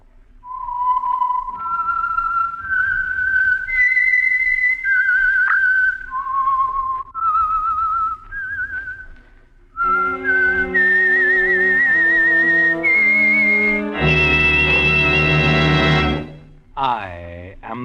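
A whistled melody opens the Signal Oil radio program The Whistler, played as a clear rising and falling tune of held notes. It is loud and alone, followed by a bright sustained orchestral chord.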